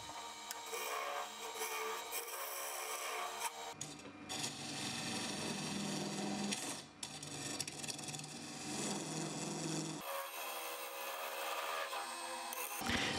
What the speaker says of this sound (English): I started hollowing with the bowl gouge, but that didn't seem to work that good.